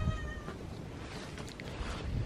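A cat at an old house under renovation gives a couple of moderate meows, one near the start and another late, over faint background noise.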